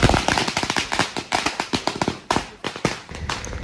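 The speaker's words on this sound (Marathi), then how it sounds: "भाताचं स्वागत एकदम कडकदार फटाके वाजून झाले" Firecrackers burst in a rapid, loud string of sharp cracks and pops, set off to welcome a newborn baby boy home in a village celebration.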